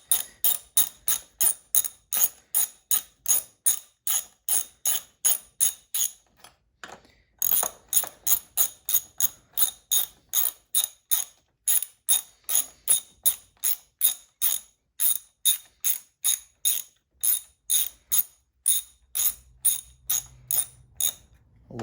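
A hand ratchet tightens bolts in a long run of crisp, evenly spaced clicks. The clicks come close and clear, with one short pause partway through and a faint low rumble near the end.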